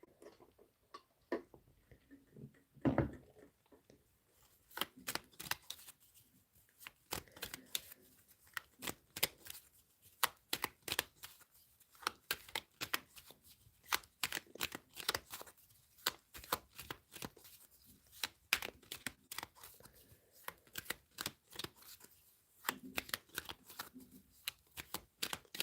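Tarot cards shuffled by hand in a steady run of crisp, rapid riffling flicks and soft slaps, close and fairly quiet, with short pauses between bursts and no talking.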